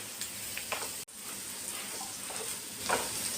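Onion pieces frying in a pan give a quiet, steady sizzle with a few faint scrapes of stirring and one brief dropout partway through, and nobody speaks.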